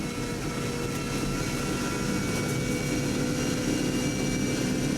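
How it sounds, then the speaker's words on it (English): A turbocharged race car engine screams at high revs on the Isle of Man TT course, loud and sustained without a break. "it's also revving quite a lot higher than the previous car"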